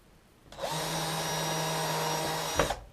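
A power drill driving screws into a wooden table saw sled, one steady whirring run of about two seconds that rises sharply and stops with a short clunk, close and alone.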